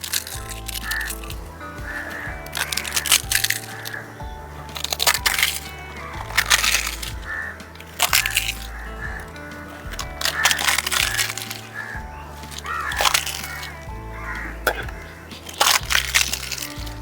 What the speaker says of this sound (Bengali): এখন ফুচকাগুলো দিয়ে দেবো ভেঙে